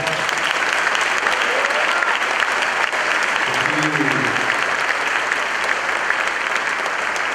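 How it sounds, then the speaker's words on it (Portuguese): Church congregation applauding in praise of Jesus, a loud, dense and steady roar of many hands clapping throughout, with faint voices mixed in. "Receba Jesus esse aplauso, aplauso mais forte."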